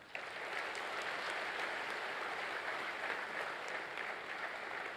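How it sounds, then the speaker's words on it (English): Steady applause from a large crowd at a university convocation ceremony, dense clapping filling the whole stretch at an even, sustained level with no pauses. "give yourselves a big round of applause."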